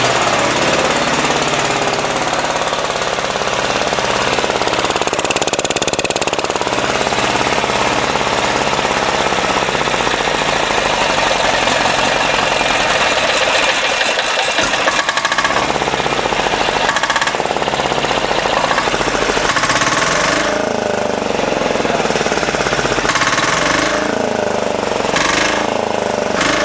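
A 10 HP diesel garden tractor engine runs at a low idle close by, with a steady loud knocking chug that carries through the whole clip.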